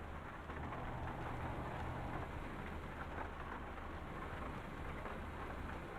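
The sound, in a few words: rain falling in Euro Truck Simulator 2 video game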